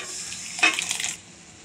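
A loud wet splat and sizzle as lentils drop into a hot pan of fried spices, quick stirring scrapes following, then it settles to a soft background hiss.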